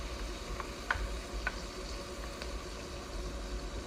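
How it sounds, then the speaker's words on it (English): Onions and garlic simmer in a pan on an induction stove, giving a steady, soft sizzle with a few faint clicks and ticks scattered across it and no talk. "It's always nice to simmer your onions and garlic before you add tomato."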